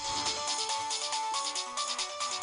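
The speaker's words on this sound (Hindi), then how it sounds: "किसी का फोन है शायद।" A phone rings with a steady electronic ringtone, a sustained warbling tone repeating in short pulses, clear and moderately loud with no talk.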